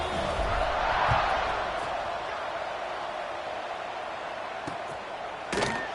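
A stadium crowd at a Kentucky college football game keeps up a steady, loud buzz of roaring and cheering after a score, with a few sharp pops near the end.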